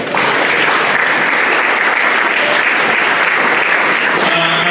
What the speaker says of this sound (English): Can you clap for that, guys?